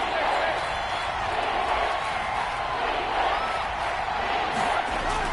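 A loud, sustained roar from the Seahawks stadium crowd during a third down in the red zone of an NFL football game, a dense wall of cheering that never lets up.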